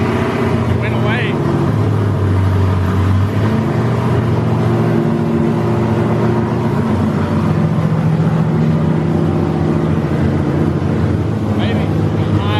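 A race car engine being tested, running steadily at higher RPM with a loud, continuous drone and tonal whine throughout, with people talking over it.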